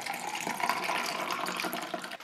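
A non-alcoholic cocktail is poured into a hurricane tulip glass, a continuous soft splashing trickle lasting about two seconds, close and quiet, with no voices.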